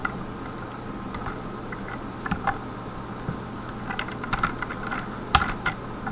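Someone types code on a computer keyboard during a C programming lesson, light clicking keystrokes in short irregular bursts, close and fairly quiet, with no talking.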